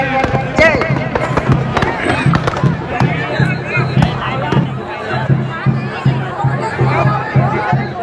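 Fireworks crackle and pop continuously at an outdoor Ravan Dahan festival fairground, mixed with a dense crowd hubbub and shouting, with a rhythmic low drumbeat running underneath throughout.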